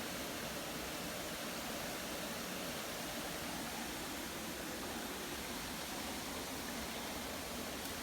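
Spring water runs in a stream in a wooded state park, producing a steady, even rushing hiss that holds unchanged throughout, fairly soft and close, with no voices or other sounds.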